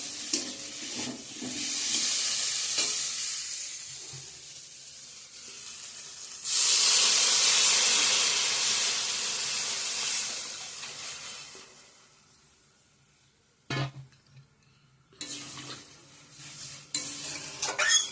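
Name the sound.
water added to frying potato and radish masala, sizzling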